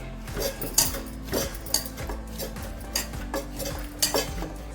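A spoon stirs a soft jaggery and rice-flour dough in a metal vessel for bellam thalikalu, scraping and clinking against the sides in a steady series of close, distinct strokes. No one speaks.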